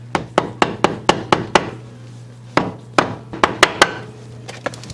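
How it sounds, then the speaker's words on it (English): Rubber mallet striking the cover of a Dana 35 axle, about fifteen sharp, close thuds in two quick rhythmic bursts separated by a short pause, over a low steady hum. "If it won't break loose with the rubber mallet, the thing to do is get a jack under it"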